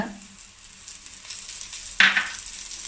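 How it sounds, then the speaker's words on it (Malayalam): Spiced prawn masala stirred in a heavy thick-bottomed uruli pot, a low steady sizzle with a sharp scrape of the spoon against the pot about two seconds in. "എന്നിട്ട് ഇളക്കി കൊടുക്കുക. നല്ല അടിക്കട്ടിയുള്ള പാത്രമാണ്, ഉരുളിയാണ്."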